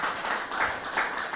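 Studio audience applauding, a dense, steady patter of many hands held at even strength for a moment with no voices over it.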